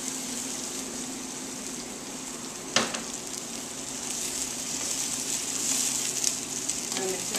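Rice with saffron-tinted fish broth poured into a hot paella pan for seafood paella in a restaurant kitchen, giving a steady close sizzle and gush of liquid with one brief clatter midway and no talk.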